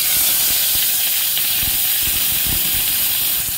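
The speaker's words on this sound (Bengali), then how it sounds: "এরপরে কেটে রাখা কাঁচা লঙ্কা আর টমেটোটা দিয়ে দেব" Green chillies and tomato dropped into hot oil with nigella seeds, giving a loud, steady sizzling hiss with faint crackles, continuous throughout and with no voices.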